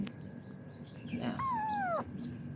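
A domestic cat gives one drawn-out meow with a falling pitch, fairly close, over quiet indoor background noise.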